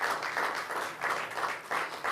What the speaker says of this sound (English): Please, a round of applause for this fantastic panel.